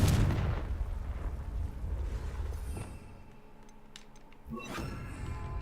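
A Confringo blasting spell in Hogwarts Legacy on PS5 goes off with a heavy explosive burst at the start, followed by a fading rumble and a few sharp crackling pops near the end.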